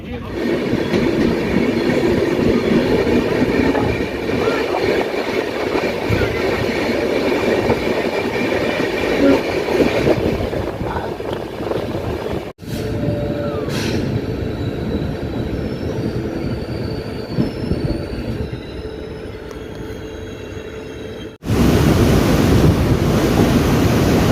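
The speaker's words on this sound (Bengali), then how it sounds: "ট্রেন এখন ফারাক্কা ব্রিজ ক্রস করছে" Darjeeling Mail passenger train crossing the Farakka bridge, a loud continuous rumble and clatter of wheels on rails with brief squeals, steady throughout with a short break partway.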